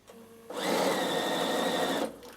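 Bernina sewing machine stitching fabric, a steady, close motor whir that starts abruptly, runs evenly for about a second and a half, then stops.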